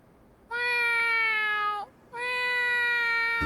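A person imitates a cat, giving two long, drawn-out meows in a row, loud and close, with a brief pause between them.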